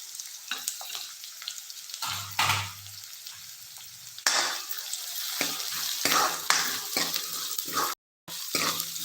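Onion and fresh curry leaves sizzle in hot oil, a close crackling fry with stirring scrapes and bursts of louder spitting, with no one talking.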